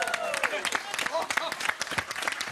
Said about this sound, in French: Je voudrais un tonnerre d'applaudissements s'il vous plaît pour notre moustachu à nous,